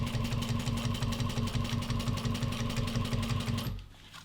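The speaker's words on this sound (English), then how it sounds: "So I'm just doing my 2 top stitchings just like I did on the front and back panels." A Juki 1541S industrial leather sewing machine top-stitches nylon with a steady, loud, close motor hum and a regular needle thump, then stops abruptly just before the end.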